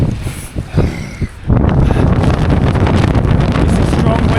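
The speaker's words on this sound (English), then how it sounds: "It's a strong wind" Strong wind buffets the microphone on Carnedd Llewelyn mountain at night, starting gusty and intermittent, then surging into a loud, continuous roar after a moment.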